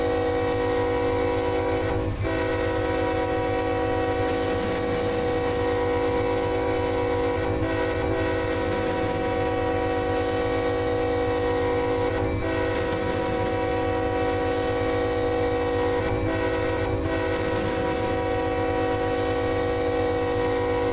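A 28,000-ton coal train rolls steadily in Run 8 Train Simulator, a sustained low engine drone with layered horn-like tones and periodic clanks, continuous and loud without talk.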